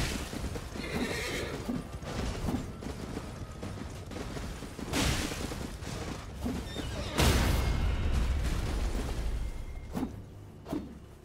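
A horse in the video game Elden Ring whinnies loudly amid hoof clops and clanking mechanical sounds, with a heavy thud partway through and a few sharp hits near the end.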